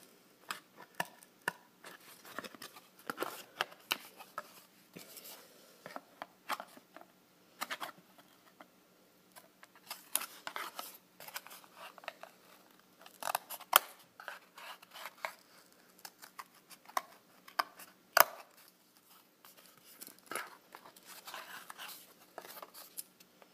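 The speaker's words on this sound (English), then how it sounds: "it's easier to use scissors" Quiet, irregular snips and crisp crunches of scissors cutting through cardboard, close by with short pauses between cuts.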